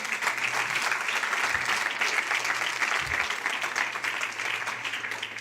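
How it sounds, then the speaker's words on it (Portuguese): An audience at a Brazilian church event applauds, sustained dense clapping from a large crowd with a low hum underneath, continuous throughout. "Você pode aplaudir mais forte se for para ele."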